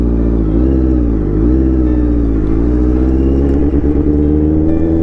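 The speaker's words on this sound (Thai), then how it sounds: "ค่อยๆ ปล่อยคัดนะครับ แล้วก็เต็มคันเร่งหน่อย" A Honda CBR650R motorcycle engine pulls away as the clutch is let out, a steady loud mid-pitched drone rising and dipping in pitch through repeated revs, close by with no talk.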